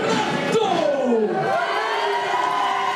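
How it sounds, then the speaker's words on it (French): Wrestling crowd at a French Aurora Wrestling show cheers loudly and steadily for the wrestler Bernardo, a dense wash of voices with whoops and shouts rising over it, continuous throughout. "Veuillez applaudir Bernardo."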